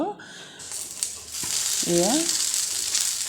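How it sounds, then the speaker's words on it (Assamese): Ivy gourd pieces fry in a pan for a chutney, a steady close sizzle building after a brief clatter and a short spoken phrase, then holding loud to the end. "ইলুটি কৰি মই এনেকৈ অলপ সময় ভাজি লওঁ।"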